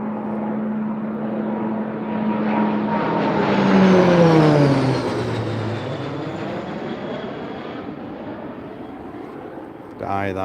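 A Texan aircraft sweeps through the Mach Loop, its engine tone climbing as it nears, peaking loud in passing, then sliding down in pitch as it fades away.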